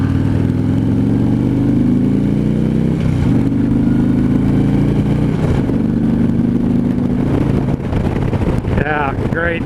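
A 2015 Harley-Davidson Street Glide's engine drones loudly during a test ride, its pitch rising and falling with throttle and shifts, under heavy wind rush, with a voice speaking near the end.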